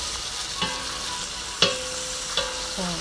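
Vegetables simmer in a pot over low heat under a steady soft sizzle, with three or four sharp scraping strokes from the stirring spoon, each one separate.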